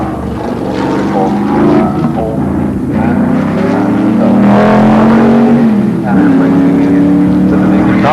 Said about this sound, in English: McLaren M8D with an 8-litre Chevrolet engine